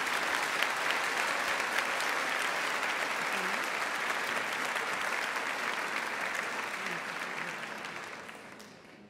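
Long, steady applause from an audience at a fashion show honoring the makeup students, clapping holding even before thinning and fading toward the end.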